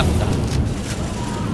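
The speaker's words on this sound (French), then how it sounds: "Ah, grenade." A grenade exploding in the video game The Division, a loud, dense low boom filling the whole moment with a rumbling tail, with a voice faintly mixed in.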